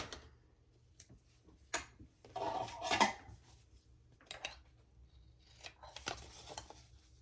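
Scissors trimming excess fabric from the sides of a crossbody bag, with a few quiet, close snips and metallic clicks spaced irregularly against a near-silent background.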